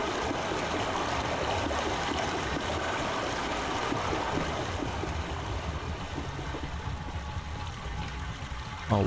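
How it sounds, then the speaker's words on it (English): Steady rushing water pours down through a passage in Myst (2021), a loud, continuous broadband flow that stays constant throughout. "Oh, water's coming down through here."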